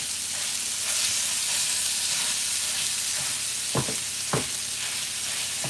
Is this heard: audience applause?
no